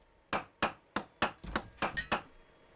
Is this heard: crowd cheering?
no